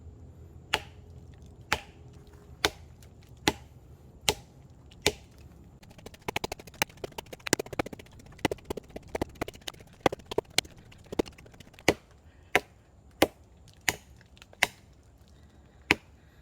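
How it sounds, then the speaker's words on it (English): A CSF Tracker handmade knife chops into a tree trunk: sharp, woody thwacks at a steady pace of about one per second, with a busier flurry of quicker cuts and rustling in the middle. "So here we have the CSF tracker, and let's see how well it chops."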